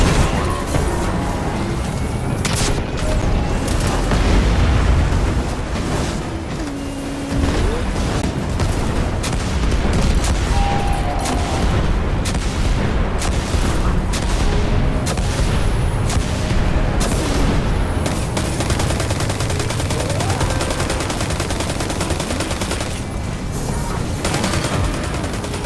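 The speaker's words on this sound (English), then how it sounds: "That's all the cannons." Cannons firing in the video game Destiny 2, a dense, continuous barrage of booming blasts and rapid explosive impacts, loud and sustained throughout with no break, and no speech.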